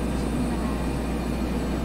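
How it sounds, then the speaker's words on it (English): A Bell 412 helicopter flies in the X-Plane 11 simulator, a steady low rotor and turbine drone that stays constant and loud throughout. "Flying a helicopter"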